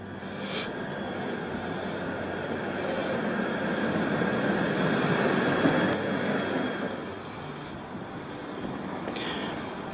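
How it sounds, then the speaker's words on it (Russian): Tram rolling along a street lined with old wooden houses, a steady low rumble and hum that swells and fades as it passes at moderate distance. "А вот и трамвайчик."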